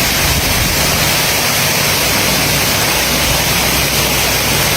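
An artificial waterfall in a flower garden pours in a loud, continuous, even rush of falling water, heard close up and unbroken, with no voices.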